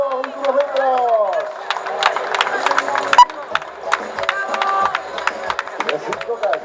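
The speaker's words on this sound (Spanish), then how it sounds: "¡Fuerte el aplauso para recibirlo!" A crowd claps and cheers for a runner at the finish of a 10K race, with scattered sharp claps and whistles under a loud announcer's voice.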